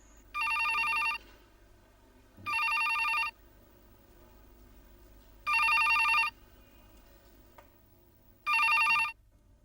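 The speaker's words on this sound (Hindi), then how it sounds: "मैं अभी फोन करके आता हूं" A telephone bell rings in four evenly spaced bursts, each about a second long with pauses between, loud and clear over a quiet background with no talk.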